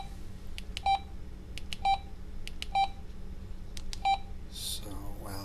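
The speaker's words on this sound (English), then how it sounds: "So it looks like the same tone selection for your intercom as your regular phone." EnGenius FreeStyle2 cordless phone cycling through intercom ring tone choices, four evenly spaced electronic beeps close up against a quiet room hum, with a voice beginning to speak at the very end.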